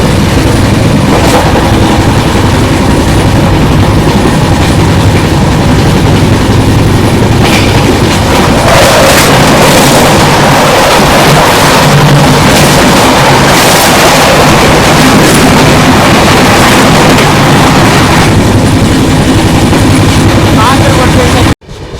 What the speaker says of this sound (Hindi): चलिए मैं दिखाता हूँ आपको दोनों एक्सप्रेस एपी एक्सप्रेस की क्रॉसिंग